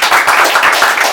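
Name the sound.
audience clapping for Nature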